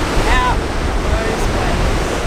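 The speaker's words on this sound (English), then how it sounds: "The waves here are just something else." Steady roar of ocean surf crashing nearby on the South African coast, broadband and continuous, with gusty wind buffeting the microphone and a faint voice in the background.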